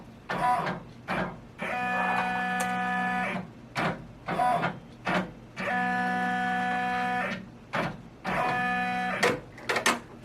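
Embroidery machine tracing a design outline on a belt hoop, running in several stretches of steady whirring motor hum with a buzzing tonal drone, separated by short pauses and clicks as the hoop moves.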